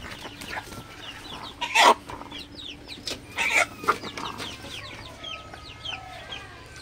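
Broiler chickens on a farm clucking, several birds close by giving soft repeated clucks with a few louder squawks, against a quiet background.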